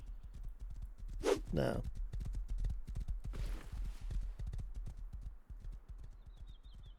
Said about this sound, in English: Guy just rode by on a horse.